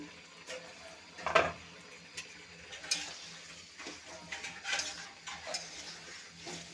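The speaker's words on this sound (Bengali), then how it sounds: "একটু ঢেকে দেব ঢাকনিটা উঠিয়ে নিচ্ছি" Spinach curry cooking in a pot with a faint simmer, broken by a clattering metal knock as the lid is handled and a few lighter utensil clinks, close and quiet.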